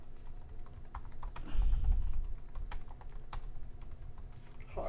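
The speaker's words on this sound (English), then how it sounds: "Hard typing." Hard, fast typing on a computer keyboard in a podcast setting, a steady run of close, sharp key clicks with a few louder strikes and a low thump partway through.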